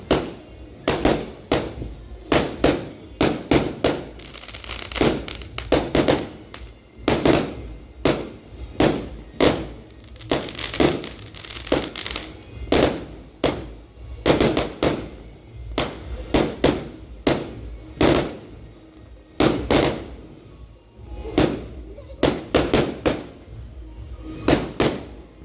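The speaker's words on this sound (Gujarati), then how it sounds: "મિત્રો ફટાકડા ફૂટે" Firecrackers bursting during Diwali celebrations, a rapid series of sharp, loud bangs repeating unevenly for the whole stretch, some clustered in quick volleys, others spaced apart, with no talk over them.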